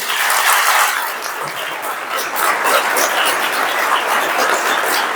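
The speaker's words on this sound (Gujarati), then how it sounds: "એકવાર જોરદાર તાળી પાડો છે" A hall of Garda College students applauds, with dense, sustained clapping heard at close range that stays loud for the whole stretch and swells slightly midway.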